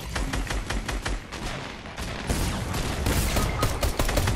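Rapid bursts of video game gunfire in Fortnite crackle through a dense, chaotic firefight, several weapons shooting in overlapping volleys at close range with no pauses.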